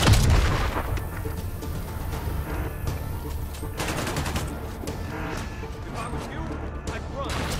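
Rapid bursts of gunfire in the Spider-Man video game on PS5 rattle on amid game voices and background music, moderately loud and continuous.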